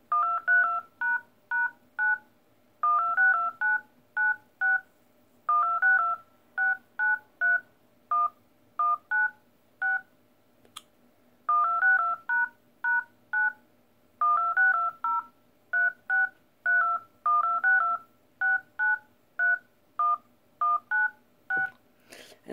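A song tapped out as telephone dial pad tones, a long run of clean, close DTMF beeps in the song's rhythm, grouped into phrases with short gaps and no talking.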